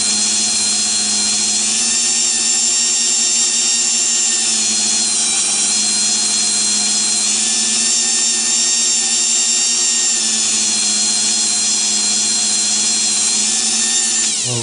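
A Dremel rotary tool spinning a handkerchief to buff glaze off a small axle, giving a loud, continuous high-pitched whine that holds steady throughout with slight wavering in pitch.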